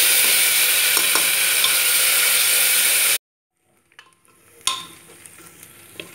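Garlic, onion and green chilli paste sizzles loudly in a pan over crackling cumin for about three seconds, then cuts away to quiet, with a few soft clinks and scrapes of stirring.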